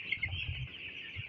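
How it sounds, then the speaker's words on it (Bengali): Broiler chickens on a poultry farm cluck in a short close burst of clucks, with a high steady hum behind. "এই মুরগিগুলোকে"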